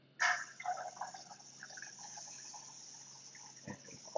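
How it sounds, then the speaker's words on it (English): A water tap in an organic chemistry lab is turned on for recrystallization work, giving a sudden gush that settles into a quiet, steady trickle of running water with faint splashes. "So you turn on your water"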